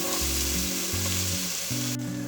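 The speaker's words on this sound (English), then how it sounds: "Now let's saute this for 2 to 3 minutes" Onions and a whole bay leaf sautéing in oil and dalda (clarified butter) for a Hyderabadi pulav, a steady close sizzle running beneath louder background music throughout.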